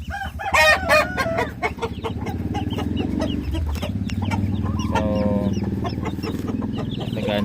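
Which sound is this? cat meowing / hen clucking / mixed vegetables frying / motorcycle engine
hen clucking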